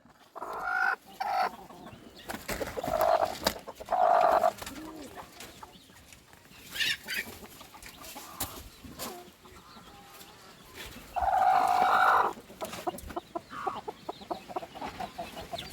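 Hens in a backyard poultry coop clucking and calling repeatedly, with several louder bursts standing out from a steady background of softer fowl noises, close by and without talk.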